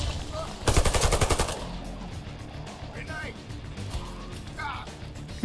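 Rapid automatic gunfire from the Warface shooter game on PS4, a short burst of fast rattling shots near the start, then quieter game ambience as someone talks over it.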